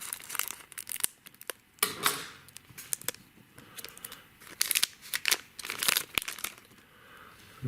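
Crinkly foil of a heavy Pokemon Base Set booster pack being handled and snipped open across the top, a string of sharp crackles and crisp rustles close by with no talking.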